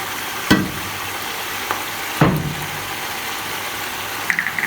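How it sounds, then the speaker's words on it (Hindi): Meat frying with onion, yogurt and nihari masala paste in a pot, giving a steady sizzle with a few sharp scraping stirs and clacks, close and alone without talk. "अब हम इसको मज़ीद फ्राई करेंगे।"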